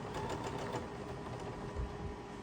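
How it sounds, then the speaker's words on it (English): A sewing machine runs in a steady fast mechanical whir with a faint repetitive ticking, fairly quiet and close, with no talk over it. "I don't know when the last time I had this this sewing machine cleaned out"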